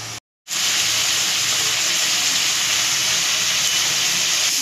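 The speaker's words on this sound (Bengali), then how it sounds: "চিংড়ি মাছ তেলে দেওয়ার পর চিংড়ি মাছ থেকে জল বেরোয়, জলটা শুকিয়ে যাবে" Prawns sit in hot oil as they release water, making a dense, even hiss of sputtering steam after a brief silent gap at the start, close and steady with no voices.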